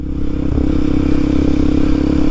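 Kawasaki KLX 230SM motorcycle on the move, a steady loud single-cylinder engine drone with a slight pitch rise, continuous and close with no talk.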